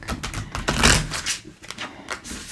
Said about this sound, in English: So I'm going to shuffle the deck.